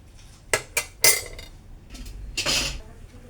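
Utensil scraping and clinking against a metal pot while carrots are stirred with milk for carrot halwa, a few sharp knocks followed by a longer scrape, close and moderately loud.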